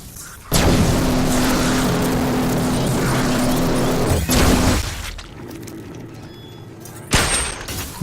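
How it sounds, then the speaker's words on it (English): A .50 cal rifle fires in the VR shooter Farpoint, sending out a loud, sustained blast of booming gunfire. A brief pause comes before another burst, and a sharp final report follows. "It's a 50 cal rifle."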